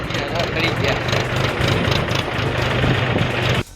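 A tractor engine runs steadily nearby with a low, droning hum and a rumbling idle-like pulse throughout, cutting off abruptly at the very end.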